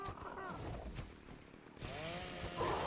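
A chainsaw in the ARK: Primal Fear video game, modded on the Ragnarok map, cuts through a creature. Two revving bursts rise and fall over steady game noise, loud and close.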